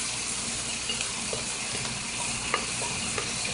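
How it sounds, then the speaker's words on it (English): Broccoli and celery stir-frying in a hot pan for a veggie pasta stir-fry, giving a steady close sizzle with scattered stirring scrapes and clicks throughout, no voices. "So next thing we're gonna add is our broccoli and our celery and stuff."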